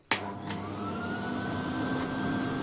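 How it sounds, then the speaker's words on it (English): A big vintage AEG Electronic 506 vacuum cleaner switches on with a sharp start, then runs with a steady loud whine and motor drone as it moves over carpet, with no talking. "See if it vacuums the carpet."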